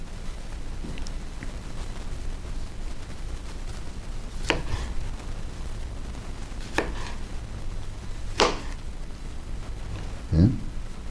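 A knife cuts through California beefsteak tomatoes on a board, giving a handful of separate soft thuds spaced a second or two apart over a quiet room hum.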